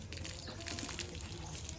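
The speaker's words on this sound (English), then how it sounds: "It's bath time for the elephant now. So I'm giving a shower." Water from a hose or shower sprays steadily onto an elephant at bath time in an elephant village near Jaipur, a continuous soft hiss and splatter with faint background murmur.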